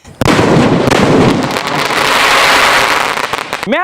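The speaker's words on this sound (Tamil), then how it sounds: "இப்போ அடுத்த நம்ம கையில் இருக்க பார்த்தீங்கன்னா டபுள் பால்." A double-ball firework shell bursts overhead in a loud, sustained roar of crackling and popping that fades slowly, with a rising whistle at the very end.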